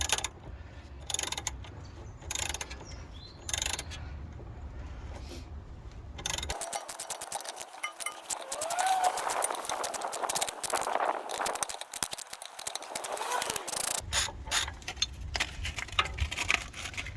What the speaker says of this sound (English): put the socket back on the ratchet, and now we should be able to undo it